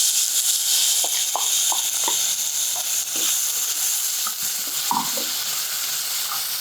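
Ground masala paste frying in hot tempering oil for a Maharashtrian shengole curry, giving a continuous soft sizzle and hiss with scattered stirring scrapes and small pops, no voices.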